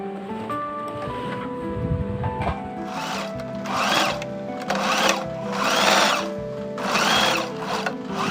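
A sewing machine stitching the inner neck lining of a traditional Kadazandusun garment, whirring in close, steady bursts that swell and ease over several seconds, running alone with no talk.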